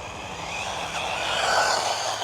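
An RC short course truck runs flat out on an outdoor course, its motor giving a continuous high-pitched whine that rises slightly as it speeds away, with wheel and surface noise underneath.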